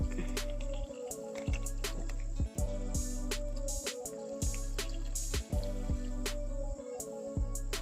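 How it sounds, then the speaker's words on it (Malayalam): Milk poured into boiling sago pudding (payasam) on a stove: soft, close dripping and liquid splashing over a steady low background hum, with no talk. "പാലൊഴിച്ച് കൊടുക്കാം"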